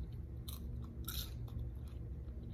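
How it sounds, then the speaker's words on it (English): Thin, crispy Popeyes fries being bitten and chewed close up, with a couple of short crunchy bites standing out over a steady low background hum. "I don't know if you can hear it. They're crispy, but the thing is that the fries are too thin"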